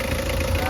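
A Mitsubishi 4D56 diesel engine idles smoothly after a smoke problem was fixed, a loud, steady close-up drone with a constant low rumble and even mechanical hum.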